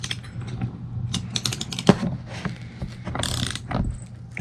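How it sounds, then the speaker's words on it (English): Close metallic clicks and ratcheting taps from tightening a long bearing press rod to seat a front wheel bearing on an MK2 Scirocco, irregular and uneven in spacing, with no voices. "we just got a long rod that goes through here, and we just tighten it all down and it seats the bearing in there"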